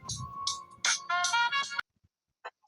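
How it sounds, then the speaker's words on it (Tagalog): An electronic doorbell plays a short, bright chiming melody of several notes, then stops, followed by a few faint clicks. "Ang lakas ah. Yung doorbell ko, pare."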